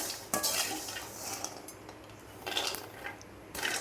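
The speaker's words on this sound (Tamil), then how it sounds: "1/2 கிலோ பிஸ்தாவை நம்ம நல்லா வறுத்துக்கலாம்." Half a kilo of pistachios dry roasting in a pan as a spoon turns them, bursts of rattling and scraping against the pan over a low background hum.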